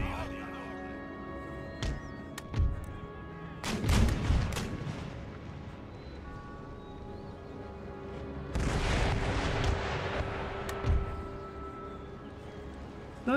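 Howitzers fire in Empire Total War battles: heavy booms land in two clusters, a few rapid blasts early and a longer rumbling salvo later, over low battlefield ambience.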